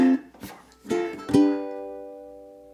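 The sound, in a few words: ukulele played slowly in a reggae strum pattern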